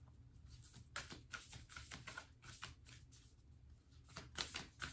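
Oracle cards shuffled by hand in quiet surroundings, a soft, close rapid riffling and flicking in repeated bursts of crisp paper patter.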